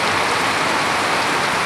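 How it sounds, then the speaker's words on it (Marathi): Heavy unseasonal May rain pours down in Konkan, a dense, steady roar of falling water with no breaks, loud and close throughout. "किती पाऊस पडतोय बघा तो।"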